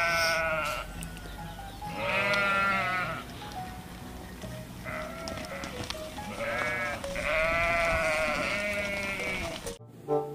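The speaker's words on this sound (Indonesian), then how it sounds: "ada banyak sekali kawanan domba yang sedang pulang kampung" A flock of sheep bleats repeatedly in overlapping calls, fairly close and loud, with no talk over it.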